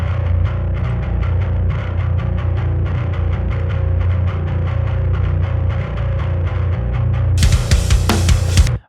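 Heavily distorted electric guitar with gain at maximum, chugging in a steady rhythm on Meshuggah's "Born In Dissonance", thick and loud, with a brighter crashing burst near the end before it cuts off.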